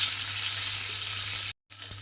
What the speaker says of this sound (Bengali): আপনারা একটু দেখতেই পাবেন এটা আমি কিভাবে ভেজে নিচ্ছি